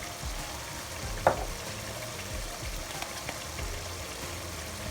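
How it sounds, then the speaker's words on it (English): A Ghanaian fish stew simmers with added spices like cumin, a soft, continuous low bubbling sizzle with one brief clink, quiet and heard without talk. "our stew is really cooking nicely"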